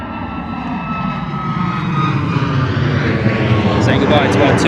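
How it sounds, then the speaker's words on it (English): A TUI Boeing 737 jet takes off at London Gatwick with a loud, steady engine roar that swells gradually, alongside faint whining tones. "Saying goodbye to our TUI Boeing 737"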